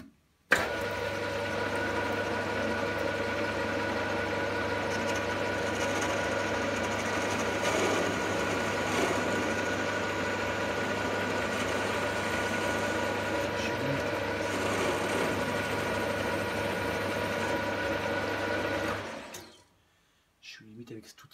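A machine tool spins at 1000 rpm cutting a small chamfer on an adapter, giving a steady loud motor hum with cutting noise that stops abruptly near the end.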